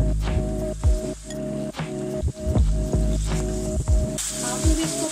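Chicken pieces frying in hot oil for a crispy fried chicken sandwich, with loud, close bubbling and wet crackling broken by repeated sputtering bursts and squishy pops, and a voice speaking intermittently.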